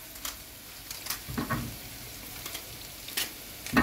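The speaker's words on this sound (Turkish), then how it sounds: "Soğanları biraz soteledik. Şimdi havuçları katıyoruz." Onions and carrots sautéing in olive oil, a faint steady sizzle broken by a few soft stirring scrapes and clinks of a utensil in the pan.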